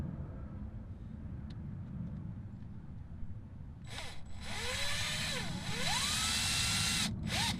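Power drill driving a self-tapping screw into a vehicle mud flap, a high whirring that rises and bends in pitch over the last few seconds, close and loud above low background rumble.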